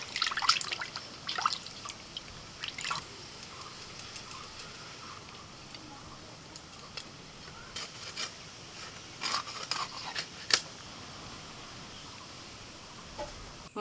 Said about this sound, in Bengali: জল পাল্টে আরেকবার ভালো করে ধুয়ে নিচ্ছি।